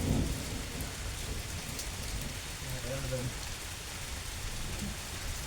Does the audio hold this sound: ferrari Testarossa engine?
no